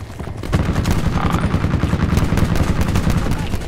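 Gunfire in the Black Ops 4 video game: rapid bursts of loud, close automatic shots in a dense, steady rhythm, with a faint voice briefly in the background.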